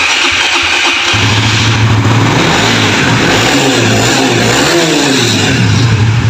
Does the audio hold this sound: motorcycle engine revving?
yes